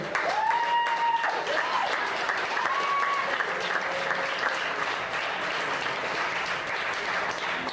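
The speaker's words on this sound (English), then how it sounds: "Round of applause for" Comedy club applause at the end of a stand-up set, a sustained even roar of clapping from the crowd lasting several seconds, with a few whoops rising above it.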